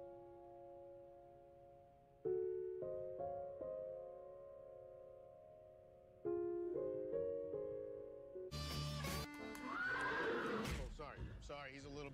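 A horse whinnies loudly near the end, a bright shaky neigh following a stretch of sustained tonal music-like notes, with no clear talk over it.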